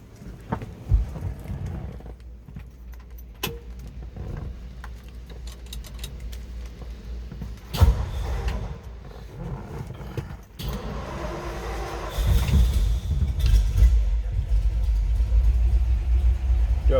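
A 1960 Ford F250 regular cab 4x4 pickup with its choke pulled out slightly, not run for a while, cranks in short bursts and then catches into a steady, loud, close low rumble.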